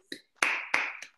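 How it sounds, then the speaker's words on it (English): Four separate hand claps ring out in a workout class. Each is sharp, with a short echoing tail in a quiet room, spaced unevenly over about a second with no voices. "Big round of applause"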